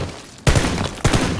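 Two sharp bursts of gunfire in PlayerUnknown's Battlegrounds, spaced about half a second apart, each loud and close with a quick ringing decay and no talking over it.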